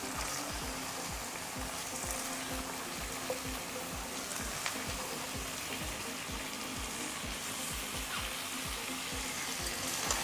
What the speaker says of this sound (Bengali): সমস্ত মুরগির মাংসটা এখন আমি কড়াইয়ের মধ্যে দিয়ে দিচ্ছি